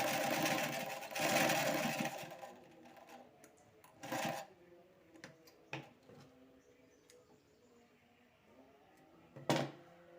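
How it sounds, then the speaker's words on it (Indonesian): Sewing machine stitching the pocket of a kebaya, heard as bursts of mechanical whirring with clicks and knocks between runs, loudest early in the stretch and again near the end. "Itu sudah mulai menjahit sakunya."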